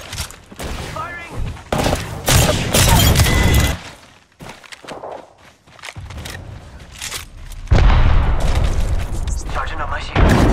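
Heavy bursts of video game gunfire in a squad shooter crackle in dense, loud volleys with a few booming hits, mixed with a player talking between the shots.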